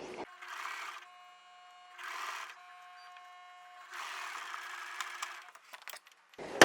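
A sewing machine stitching closed a shirt cuff runs in three short bursts of rapid mechanical whirring, separated by brief pauses, close and clear.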